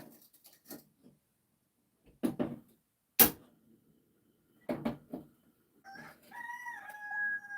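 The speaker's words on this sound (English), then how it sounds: "All 4 of them are going off right now." Several roosters crow in the dark at 1 a.m. in rural New Zealand on a rainy night, the calls arriving one after another with silent gaps between them, ending in a longer drawn-out crow with clear rising and falling pitch.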